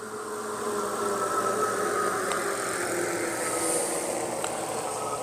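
Aipas M2 Pro Xterain e-bike motor running on throttle only up an 8-degree hill, a steady whining hum held at constant loudness throughout, with faint wind noise.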